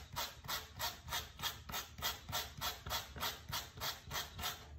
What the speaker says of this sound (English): I'm gonna, again, hold this one side and I'm gonna brush out the other side.